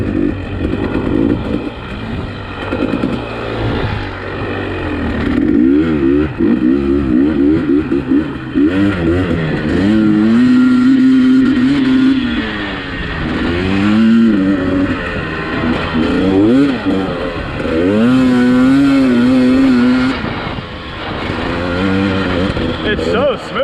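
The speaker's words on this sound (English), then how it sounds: "I think this is the smoothest bike I've ever been on." A motorcycle engine hums steadily and swells in several revving surges while riding, with loud wind-buffeted talk from riders running over it throughout.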